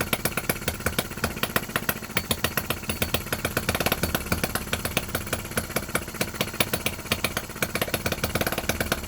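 A Lister D working miniature petrol engine on its first run, a rapid, even chuffing beat that is loud and close and keeps steady with no voices.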